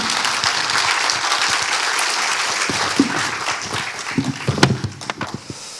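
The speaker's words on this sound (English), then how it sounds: "Please join me in welcoming him with a warm round of applause." A conference audience at a World Meditation Day forum opening ceremony gives a warm round of applause to welcome a speaker. Dense, sustained clapping fills most of the stretch, then thins into scattered individual claps before fading.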